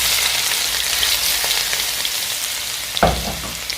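Cumin seeds and ground spices sizzling in hot oil in a pan for masoor dal, a steady bright crackling hiss with a sudden louder burst near the end as more is stirred or added.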